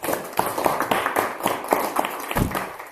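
A small audience claps for a guest speaker at the close of an English-language talk: a few seconds of uneven, moderately close hand claps.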